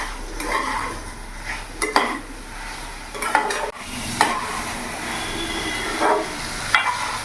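Spiced rohu fish curry with potato and cauliflower sautéing in a pan over raised gas flame, with a constant sizzle and repeated scraping stir strokes of a spatula against the metal.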